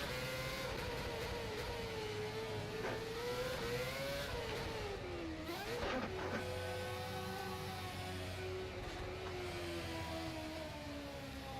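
A race car engine in the rFactor 2 racing game hums steadily as the car heads into the pit entry at the Singapore circuit, its pitch sliding up and down with brief revs and dips, continuous and fairly faint, with no speech.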